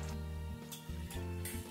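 Sabudana vadas frying over medium gas in oil in a kadhai, giving a steady, close hiss of sizzling that runs unbroken and fairly loud, with no voices.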